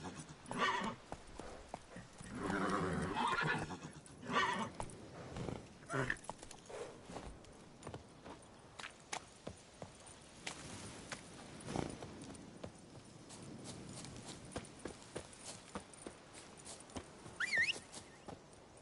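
Horse hooves clip-clopping at a steady trot in The Witcher 3 on PS5, with occasional whinnies and a rider urging the horse on in speech early in the clip.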